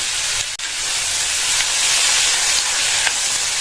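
Tomatoes sautéing in a pan for urad dal tomato chutney give a loud, steady sizzling hiss close up, unbroken apart from a brief dip near the start, with no talking.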